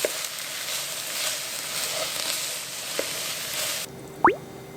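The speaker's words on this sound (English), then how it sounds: "Then let's add our bacon back in and give it another quick mix and make sure everything is well combined." Kimchi potato hash with bacon sizzles loudly in a pan as it is stirred, a steady close frying hiss with a few soft scrapes, ending with a brief clink after the sizzle drops away.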